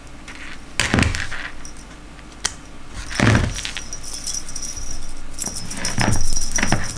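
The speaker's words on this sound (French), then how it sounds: "On va essayer de mettre la deuxième clochette." Two small bells, the second just added, jingle in a few close, bright shaken bursts separated by quieter tinkling.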